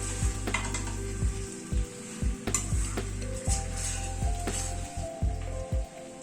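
Chicken sautés in a pan with a steady sizzle and frying crackle, broken by repeated sharp scrapes and knocks of a spatula against the pan, close and clear, no voices.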